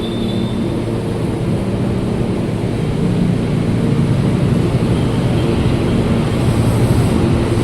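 KRL commuter electric train pulling out of Cikarang station in Bekasi on a quiet midday run, a steady loud broadband rumble and rolling roar that builds slightly, heard from inside with no voices.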